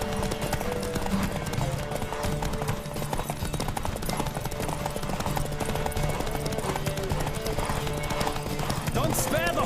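Horse hooves galloping in The Witcher 3 on PS5, a steady rapid clip-clop running throughout over layered game music and ambience, with occasional whinny-like tones and voices speaking.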